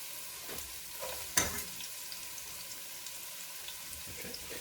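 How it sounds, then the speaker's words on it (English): Garlic, onions and carrots sweat gently in olive oil, giving a steady soft sizzle with a sharp utensil clack near the start, moderately quiet and without voices. "We're doing something called sweating the vegetables."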